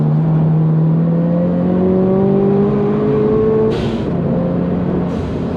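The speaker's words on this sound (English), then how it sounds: "He's putting his brakes on, so I'm going to accelerate." A Subaru BRZ sports car engine revs and accelerates steadily, its pitch climbing in a long sweep before a gear change, loud and continuous with no talking.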